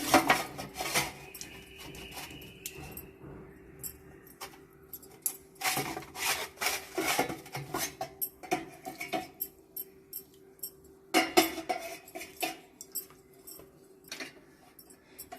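Tamarind being rubbed by hand onto metal pooja vessels, giving soft scraping and rubbing strokes in irregular bursts with occasional light metallic clinks, close and fairly quiet.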